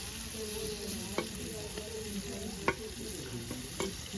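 Prawns frying in oil: a steady, close sizzle throughout, with a few sharp clicks and pops from stirring spaced across it.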